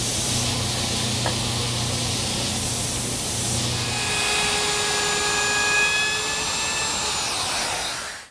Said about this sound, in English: I'm going to use my oscillating edge sander.